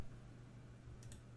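A faint, close computer mouse click on a Save button, a couple of tiny sharp ticks near the end over a steady low hum.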